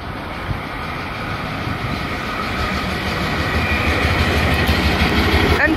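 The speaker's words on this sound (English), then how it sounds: "This is a track inspection vehicle." A track inspection vehicle passes through a railway station platform in a steady, continuous rumble of wheels and engine that grows slightly louder toward the end, with faint clickety-clack from the rails.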